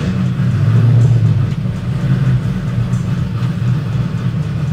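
LSX 454 V8 in an Impala running on a dyno, a loud, continuous deep engine rumble with slight swells in intensity throughout, heard up close with no talking.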